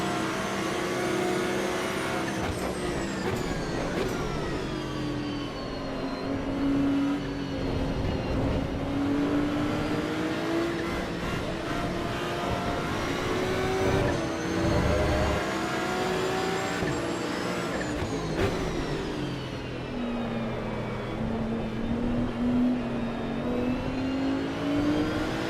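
Race car engines in Assetto Corsa Evo at Spa, a continuous loud drone with pitch rising and falling through gear changes and corners, several cars close together, steady throughout.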